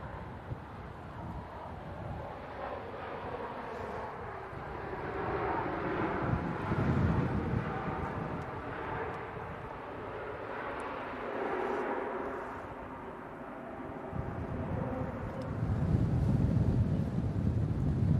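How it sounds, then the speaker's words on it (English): Steady gusting wind buffets the microphone outdoors at Manchester Airport, a loud continuous rumble that swells and eases in waves, with no speech. "It's a bit breezy."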